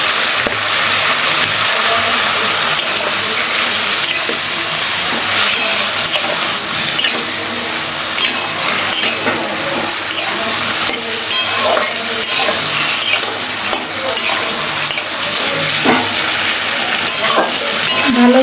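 Tomato and spiced water go into a hot pan with turmeric and ground paste, raising a loud, continuous, close frying hiss that holds steady with small bubbling crackles, no voices.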